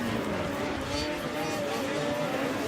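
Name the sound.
race car going up the hill, Traxxas track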